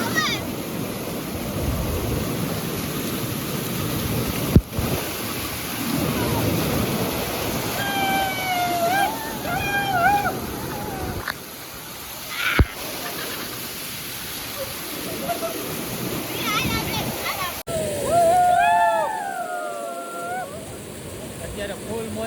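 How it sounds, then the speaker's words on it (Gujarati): A waterfall in the Jamnagar countryside pours with a continuous broadband rush. People talk over it throughout, and the water noise sits beneath their voices at a moderate level. "અત્યારે ફૂલ મોજ ચાલુ છે અમારી મસ્ત ધોધ પડે છે"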